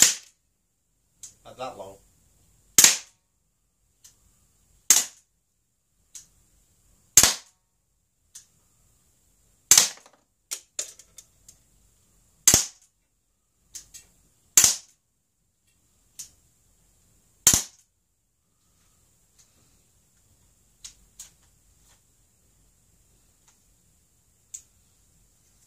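An Umarex Beretta PX4 Storm CO2 air pistol fires 10.5-grain pellets, a dozen or so sharp, snappy cracks spaced one to three seconds apart, becoming quieter near the end, with a brief spoken comment among the shots.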